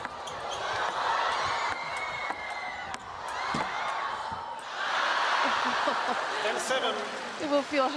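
A table tennis crowd at a women's doubles final in the United States roars after a net recovery, a loud sustained swell of cheering and shouting with a commentator's voice running beneath it.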